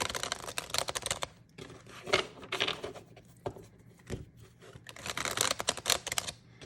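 A deck of tarot cards being shuffled by hand in bursts of crisp riffling and papery flicks, a pause between passes, close up and without speech.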